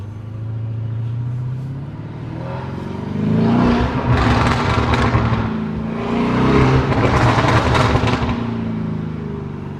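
A 720 hp Lamborghini Urus fitted with an Akrapovic exhaust rumbles and then surges through two loud, rising acceleration runs, with the engine roar swelling and easing between bursts.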